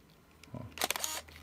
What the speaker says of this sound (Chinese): 我可以听到它这个快门也正常